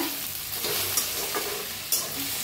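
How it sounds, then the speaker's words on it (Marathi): Okra pan-roasting with garlic while being stirred continuously, giving a steady close sizzle with a few soft scraping strokes across the pan, no voices. "बघा असं सारखं हलवत ना भेंडी भाजून घ्यायची, नाहीतर खाली करपू शकते।"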